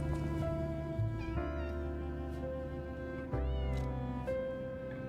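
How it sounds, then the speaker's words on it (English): A cat in the video game Lies of P gives a few drawn-out meows over a steady bed of sustained game music, each cry rising and bending in pitch at moderate loudness. "There's the cat."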